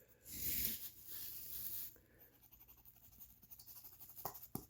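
A knife blade scrapes across the rub-off panel of a 1990s football trading card in a quick burst of rough, dry scratching, followed by softer intermittent scraping and small ticks close by.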